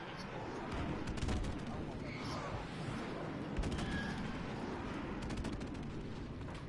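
Airstrike killstreak explosions in Modern Warfare Remastered, a dense run of booming blasts and crackling gunfire that rolls on steadily and loud for several seconds, with faint voices mixed underneath.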